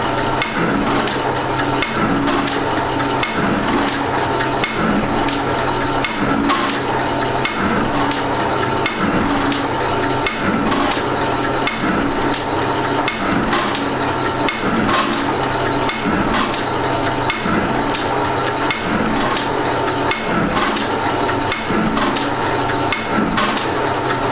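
A metal shaper cutting a workpiece with a cheap Chinese tool bit, steady repetitive strokes with a rhythmic scraping and clunk each cycle over a constant machine hum, no talking.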